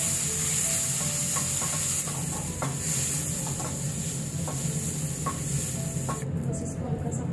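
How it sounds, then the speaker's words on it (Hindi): Tomatoes, green chillies, ginger and garlic lightly frying in a kadai, a steady soft sizzle with occasional stirring scrapes throughout, close and moderately loud with no talk. "बस इसको हल्का सा फ्राई करना है"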